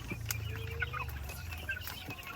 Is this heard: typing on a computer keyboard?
no